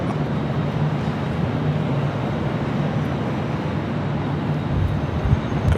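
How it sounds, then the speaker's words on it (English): Broad, steady jet roar of an Air France Boeing 777-300ER taking off from Los Angeles LAX, heard from a distance as a constant wash of engine noise with no voices. "Boy, oh boy, what a lineup of takeoffs already this morning"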